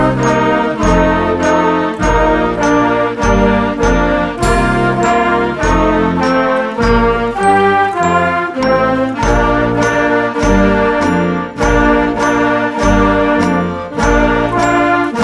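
School concert bands play Jingle Bells, bright and steady with sleigh-bell jingles on every beat, loud and continuous with no talking.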